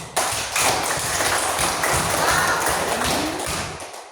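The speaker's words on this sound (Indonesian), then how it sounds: "Kasih dulu tepuk tangan untuk saya." A class of students clapping their hands together, a dense burst of many overlapping claps that starts abruptly and carries on steadily for a few seconds before tapering off.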